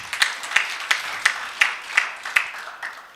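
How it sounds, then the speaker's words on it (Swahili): Clapping in steady, evenly spaced claps for Stella Gatiri, around eight crisp claps at a brisk, regular rhythm, moderately close and fairly quiet. "Stella Gatiri apigwe makofi."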